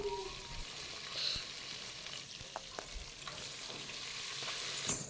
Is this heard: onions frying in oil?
yes